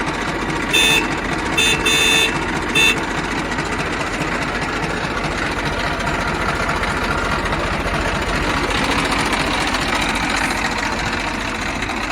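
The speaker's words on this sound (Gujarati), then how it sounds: "હોરન પણ ચાલુ છે" A New Holland 3230 tractor sounds its horn in three short blasts near the start, then its engine keeps idling loudly and steadily with a rhythmic diesel chug.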